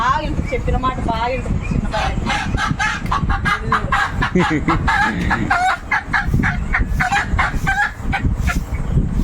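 Chickens cluck and a rooster crows in a village yard, close and busy, with a person talking throughout.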